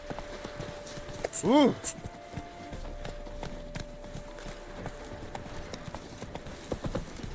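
Horse hooves clip-clop under a ridden horse in The Witcher, heard as soft, scattered steps behind game ambience, with a brief exclamation and a short animal cry early on.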